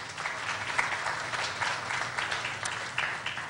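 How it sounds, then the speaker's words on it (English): Audience applause at a Ramleela opening ceremony for the National Ramleela Council, dense steady clapping from a crowd heard at moderate distance throughout. "please give the National Ramleela Council and Ms. Ramsubeik a round of applause"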